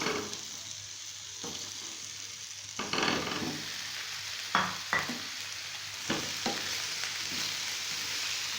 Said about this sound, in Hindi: इन तमाम चीज़ों को हल्का सा मिक्स करेंगे और साथ ही हम टमाटर डाल देंगे।